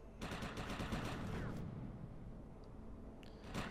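Rapid gunfire from mutant snipers on a ridge in the video game Defiance, a dense run of repeated shots over the first second and a half, then a rumbling lull before more bursts return near the end.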